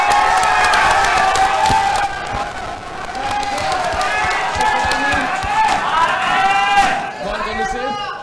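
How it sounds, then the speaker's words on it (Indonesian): An audience at a public forum for Bandung mayoral and vice-mayoral candidates claps and cheers, a dense wash of applause with shouts that dips slightly partway through and thins out at the end, while an amplified voice speaks over it. "Maka dari itu kita berikan tepuk tangan luar biasa untuk seluruh pasangan calon di depan."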